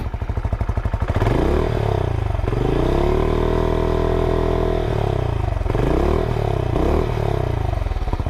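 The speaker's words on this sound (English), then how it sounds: "nice little rumble once you start the engine. Let's give it a little rev." A Benelli Imperiale 400 motorcycle engine idles with a steady low rumble, then revs up several times in quick bursts, rising and falling in pitch, loud and close.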